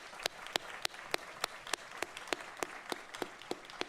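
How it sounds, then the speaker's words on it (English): An audience applauds at a university convocation for the Faculties of Agriculture and Graduate Studies. Scattered, distinct claps pop over a soft wash of clapping, fairly faint and steady, with no speech. "let's all stand together and we'll all applaud you"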